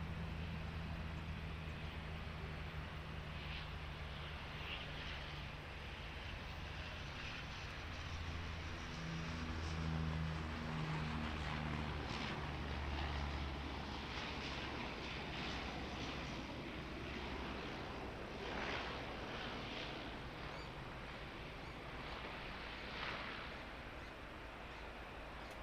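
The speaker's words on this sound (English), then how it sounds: "let's get our Dash 8 coming in" A Dash 8 turboprop airliner with PW123 engines drones steadily at a distance while landing at Auckland Airport, its engine tone rising slightly and then settling as it comes in, with no voices.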